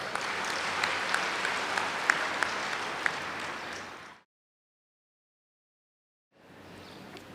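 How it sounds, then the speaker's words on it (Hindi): An audience at a spiritual gathering claps in sustained, dense applause for about four seconds, then it cuts to silence before faint crowd noise returns. "अपने लिए ताली बजा लो थोड़ा"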